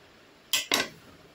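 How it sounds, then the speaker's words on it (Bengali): A knife slices through a roll-style pastry cake, giving two quick, close scraping clinks against the plate in an otherwise quiet room. "এখন আমরা কেকটা কেটে নেব"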